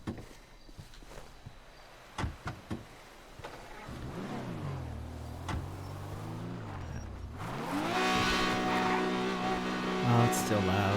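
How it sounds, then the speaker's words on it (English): A car engine in the GTA V video game revs up and down in smooth rising and falling sweeps, growing louder and steadier toward the end after a few soft footstep-like thuds, with faint voices at times. "Let's actually take the car"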